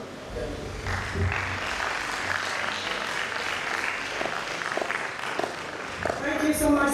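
A conference audience at Bells University's College of Management Sciences applauds after a presentation, sustained clapping filling the hall at moderate loudness, with a voice speaking over it.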